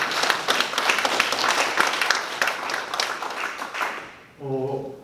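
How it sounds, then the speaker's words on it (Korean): A lecture audience at a museum forum gives a professor another round of applause, dense clapping filling the room until it fades near the end and a voice starts talking. "박수 한번 더 보내주세요"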